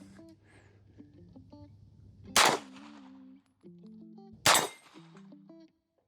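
Two sharp, loud gunshots from a Mauser C96 pistol, spaced about two seconds apart, each a sudden blast with a brief ringing tail over quiet background music.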